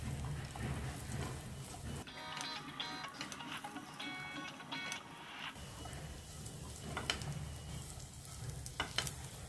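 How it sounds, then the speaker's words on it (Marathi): Chopped dates and fig pieces frying in ghee in a pan: a continuous close sizzle with stirring scrapes, loud and crackly throughout. "अंजिराचे तुकडे करून घेतले आणि तेही आपल्याला आता हे तुपावरती फ्राय करायचं आहे"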